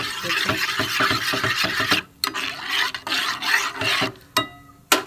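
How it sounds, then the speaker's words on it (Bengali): Milk being stirred into soybean kheer in a pan: a spoon scrapes and rubs rhythmically and fairly close, with brief pauses, then a few isolated scrapes. "দুধটা আমি পুরো এর সাথে গুলে নেব এটা একটু ঘন করে নেব"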